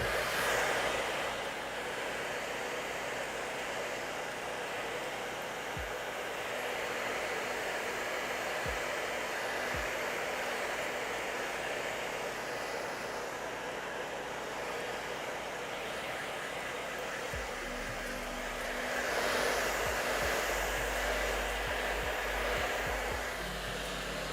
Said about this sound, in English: apply a little bit of heat with the blow dryer.